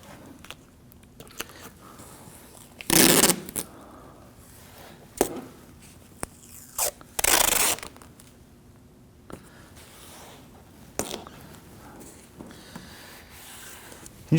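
Masking tape pulled off a roll and pressed onto a 2016-2019 Ford Taurus bumper to protect the paint, with a few sharp ripping bursts and tearing sounds among quieter handling noises, close up.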